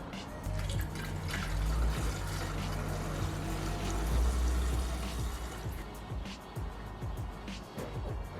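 Windscreen washers on a Mitsubishi Evo 5 RS being revived after ten years: a close electric pump hum runs for several seconds while liquid spatters and drips, then the pump tails off.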